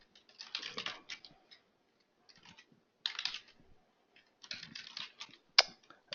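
A web address being typed on a computer keyboard, with quick, close key clicks in several bursts separated by short pauses and a sharper final keystroke.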